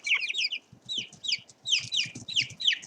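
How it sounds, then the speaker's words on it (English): Young chickens cluck and squawk in quick overlapping bursts, several birds close by calling in clustered phrases with soft low thumps beneath and brief pauses between. "They are starting to cluck instead of cheep."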